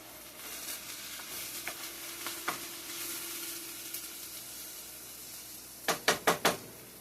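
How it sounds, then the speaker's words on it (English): Onions stirred in a pan on low heat: a faint steady sizzle with scattered scraping clicks, ending in a quick run of four louder spoon scrapes against the pan. "let's stir our onions up"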